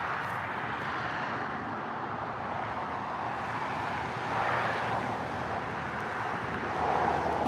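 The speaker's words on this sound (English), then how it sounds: "I hear a jet or a plane." A jet or airplane passes overhead in the distance on a smoky morning, a steady broad roar that swells slightly, heard alone without talk.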